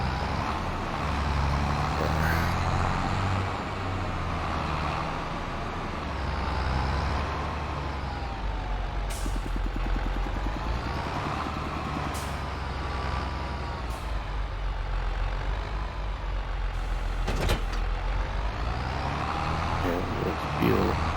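Water tanker truck in Farming Simulator 25, its engine droning steadily at close range with brief air-brake hisses, while a voice talks over it.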